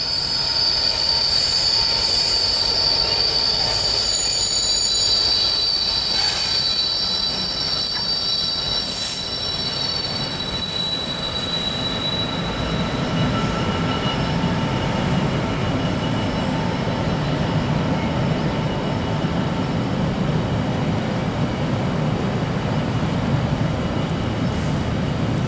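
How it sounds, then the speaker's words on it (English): Freight train hauled by locomotive 66570 crossing a river bridge, with a steady loud rumble of wagons, a continuous metallic rattle and high wheel squeal that holds throughout and grows heavier in the second half. "Freight train coming south."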